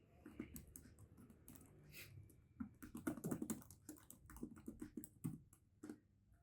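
Quiet typing on a computer keyboard while building a table in MS Word, with irregular clusters of soft key clicks and occasional firmer single presses for Tab and Enter.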